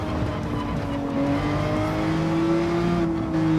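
A Toyota MR2 race car in Gran Turismo 7 under steady throttle: a loud, continuous engine drone with its pitch rising gradually as it accelerates, accompanied by faint tire noise and no talk.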